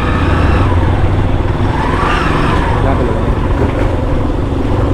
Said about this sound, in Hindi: गांव में थोड़ी बाइक अब धीरे ही चलाए, क्योंकि बच्चे वगैरह खेलते रहते हैं